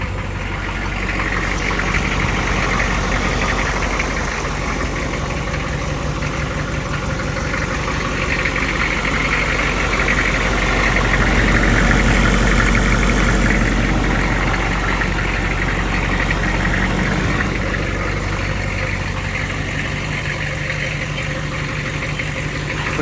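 A 4x4 bus engine idles steadily and loudly up close, a continuous rumbling drone with a slight knocking texture. It holds even throughout with no voices.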